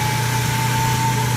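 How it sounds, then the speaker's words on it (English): A Ford Transit campervan engine runs at a steady idle, giving a loud, even hum with a constant whine, close by and without talk. "Okay, engine's on,"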